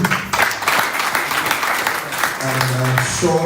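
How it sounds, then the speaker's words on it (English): Audience applause at a mental health summit, a dense wash of clapping filling the whole stretch, with a voice talking over it partway through. "Please another round of applause for him."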